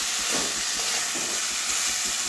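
Bitter gourd, eggplant, potato and pumpkin fry in spices in a pan, giving a steady, loud sizzling hiss with faint stirring scrapes underneath, no talk.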